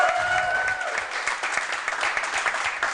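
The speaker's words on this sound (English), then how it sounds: "one more round of applause for the OKCPS Coaches Show" An audience applauds at a coaches show, a dense spread of claps that swells after a brief voice at the start and continues steadily, moderately loud and close.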